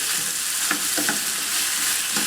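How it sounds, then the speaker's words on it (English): Apple and rhubarb with brown sugar cook in a pan, giving a steady close sizzle with a few soft stirring scrapes throughout the short stretch, and no talking. "I'm going to add about half a cup of brown sugar in with this. I'm just going to let this cook through."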